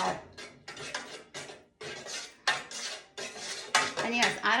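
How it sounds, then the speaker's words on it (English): Soy wax melting in a pot on a gas cooktop, stirred with a metal utensil that scrapes and clanks against the pot in repeated close, bright strokes, no talking. "So as this melts, I'm going to keep it stirred"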